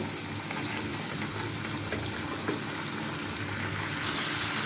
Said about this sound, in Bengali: মশলাটাকে সবজিটাকে আমি একটু ভালোভাবে কষিয়ে নিচ্ছি।